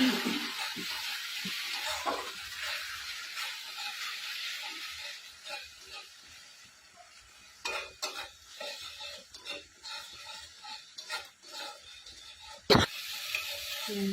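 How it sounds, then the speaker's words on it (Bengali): Spice paste fries in oil with a steady sizzle, broken by intermittent scraping and stirring clicks and a sharp clatter near the end, with faint talk in the background. "মশলাটা কষানো হয়ে গেছে"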